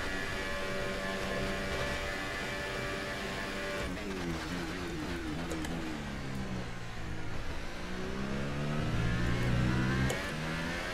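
A Formula 1 race car engine in the F1 2018 video game revs up and down in rising and falling whines, climbing to a louder burst near the end, with no talk over it.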